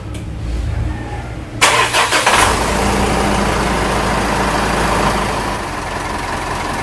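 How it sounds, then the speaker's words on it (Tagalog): A Mitsubishi Montero Sport engine cranks briefly and catches, then settles into a loud, steady idle close by after a new thermostat and fan clutch were fitted. "Okay guys, start natin yung engine."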